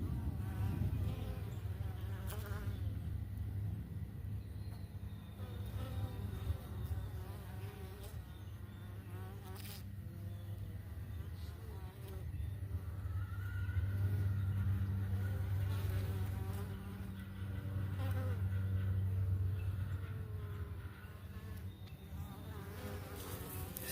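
Italian honey bees buzz steadily around a morning hive on a homestead, a dense, continuous drone close by with individual bees passing near, and no talking.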